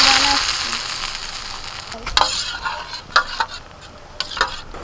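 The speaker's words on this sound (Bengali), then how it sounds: "ফোড়নটা হয়ে গেছে, এবার ডালের মধ্যে ঢেলে দিচ্ছি।" Hot mustard-oil tempering with dried chilli, whole cumin and asafoetida poured into dal: a loud burst of sizzling that quickly fades, followed by a few sharp clinks and taps of the pan.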